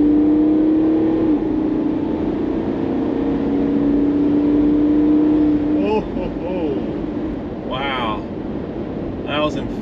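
An Ineos Grenadier with a ZF 8-speed automatic gearbox accelerating toward 110 on an open road, its steady engine drone rising with a clear upshift, wind noise throughout and a voice speaking in the later seconds.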